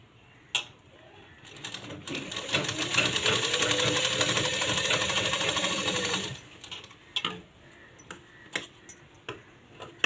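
A sewing machine stitches fabric for a small baby cap in a steady burst of rapid mechanical whirring lasting a few seconds, with scattered soft clicks and handling taps before and after.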